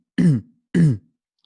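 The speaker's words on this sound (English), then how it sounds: "I just had to clear my throat" Two short, close throat clearings from one person, evenly spaced about half a second apart, each a quick rough burst in an otherwise quiet room.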